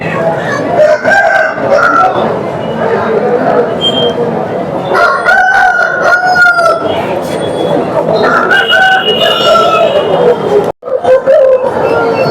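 Several roosters crow loudly one after another, close by at a breed poultry market, with clucking and some faint voices in the background.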